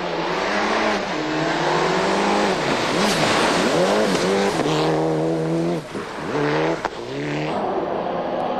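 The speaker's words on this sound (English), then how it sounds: "Championship leader Tommy Mäkinen's Mitsubishi Lancer was first into the forests" A 1997 Mitsubishi Lancer rally car charges through a New Zealand forest stage, its engine loud and close, revving hard with rising and falling pitch through gear changes and brief lifts, with no one speaking.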